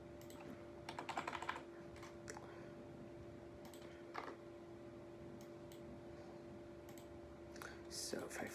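Quiet, close typing on a computer keyboard during Java coding, with bursts of rapid key clicks separated by pauses, under a steady low hum.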